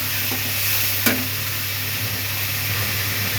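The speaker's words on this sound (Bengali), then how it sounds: "এবার এটা আস্তে আস্তে হোক, কষানো হবে।" Spice paste of chilli, cumin, tomato, garam masala and turmeric frying in oil as it is stirred, a steady close sizzle with a sharp scrape of the spoon near the one-second mark, no voices.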